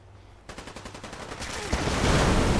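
Rapid automatic fire in Fallout 4 hammers out in an evenly spaced burst, then gives way to a louder, noisier roar of combat with no talking.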